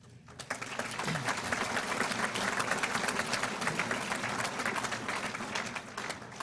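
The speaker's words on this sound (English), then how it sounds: "So they deserve a big round of applause from all people in softball." An audience at a softball Hall of Fame induction ceremony in Manitoba claps in sustained applause, a dense crackle of many hands that swells quickly, holds for several seconds and then begins to thin.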